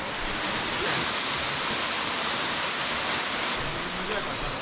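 A waterfall roars steadily in a mountain gorge, a dense, unbroken wash of falling water close by that fills the whole clip with no pauses.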